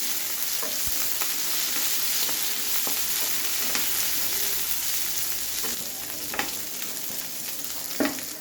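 Tomatoes fry with onions in oil for vaghareli rice, a continuous crackling sizzle with sharp spits and pops and occasional stirring scrapes, close and fairly loud with no talking.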